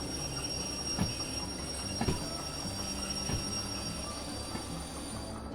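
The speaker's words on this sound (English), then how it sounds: "so let's put brakes on" Train brakes in the Derail Valley railway simulator squeal in a steady high metallic whine over a low rolling rumble, with a few soft clunks spaced about a second apart.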